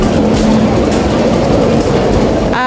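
A Hong Kong train pulls into a station, a loud continuous rolling rumble with steady wheel noise and a sustained low tone, ending with a brief rise of higher squeal as it slows.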